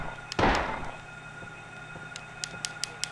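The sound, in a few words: gunshots in video game Silent Hill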